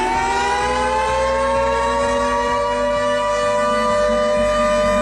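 A 2T22 civil defense siren wails with a sustained multi-tone howl, its pitch slowly rising, loud and alone with a faint low rumble underneath.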